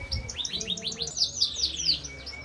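A canary sings at a songbird contest in Indonesia: a rapid, close run of repeated bright chirps and trills, loud and continuous, without talk.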